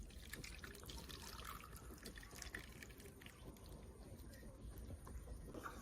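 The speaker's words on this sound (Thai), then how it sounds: "หลังจากนั้นเราก็นำมาราดกับกระดูกหมูนะครับ" Hot broth for Thai spicy pork back-bone stew (tom leng) is poured over pork back-bones in a soft, steady trickle that stays faint and close throughout.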